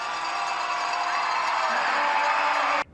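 Crowd at a BCHL junior hockey game cheering steadily in an arena, a loud continuous roar that holds for a few seconds and then cuts off sharply.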